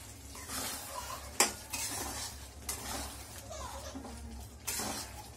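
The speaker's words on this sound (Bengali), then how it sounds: "এবার ঢাকনাটা খুলে দেখব" A metal lid comes off a pot of simmering eel curry in oil and chili, giving a few sharp clanks and scrapes over a quiet sizzle and bubbling, close and fairly soft.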